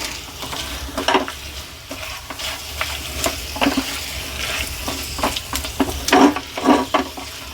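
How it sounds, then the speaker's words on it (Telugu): Cashew nuts fry in a pan on a lit stove, a loud close sizzle with repeated scraping and stirring clatters in an uneven rhythm. "జీడిపప్పులు వేసేసుకున్నాం స్టవ్ ఇంకా ఆఫ్ చేయలేదండి"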